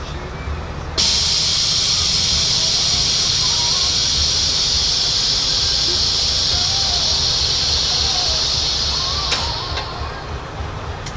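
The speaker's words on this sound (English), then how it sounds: "Compressor's a little low, it's kind of hard to go all the way up and down." Air suspension on a 1972 Chevelle wagon hisses loudly and steadily for about ten seconds, with a weak compressor struggling to fully raise and lower the car.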